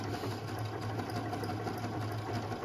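A Brother Innov'is 150 SE sewing machine stitches on its own at a steady rapid pace, a close, even mechanical hum with regular needle ticks and no talking.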